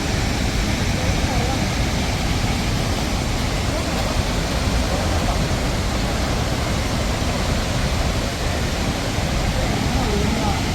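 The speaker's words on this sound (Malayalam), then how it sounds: "ലോകത്തിലെ ഏറ്റവും വലിയൊരു പിന്നെ വെള്ളച്ചാട്ടമാണ്" Heavy water roaring down the Athirappilly waterfall in Kerala, a dense, steady broadband rush that fills the whole scene without letup, loud and close.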